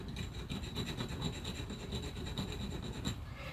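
Steady, close scratching and rasping as a brick is scored around its halfway point, continuous with a rough, gritty texture.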